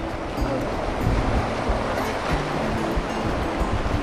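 Water rushes loudly and continuously nearby, a dense roaring wash with no pauses or voices.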